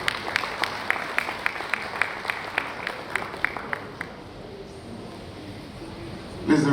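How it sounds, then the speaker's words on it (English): Applause at an awards ceremony comes as a run of sharp, evenly spaced claps that sound fairly sparse, carrying on for about four seconds before dying away into quiet room tone. "Please a round of applause once again"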